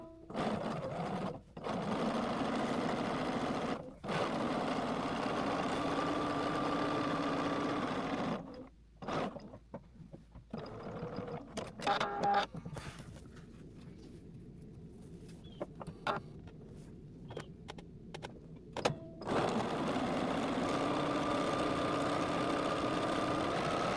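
Sewing machine stitching garment linings and front facings together, running in long steady bursts at close range, with brief pauses and quieter stretches of handling between runs.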